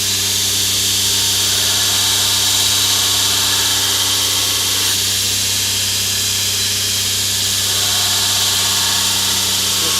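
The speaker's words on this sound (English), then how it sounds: "Let's get a little grind on here." A grinder works an AEBL steel blade with a steady, continuous motor whine under a bright, hissing grind that runs unbroken for ten seconds, close and loud, with no one speaking.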